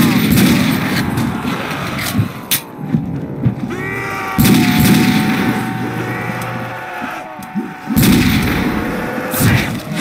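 Automatic gunfire in Call of Duty: World at War, dense bursts of shots and booming impacts running almost continuously, loud and close amid game effects and background music.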